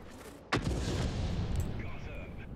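A tank gun fires once in the World of Tanks video game, a sharp, loud blast followed by a long rumbling tail over constant engine noise.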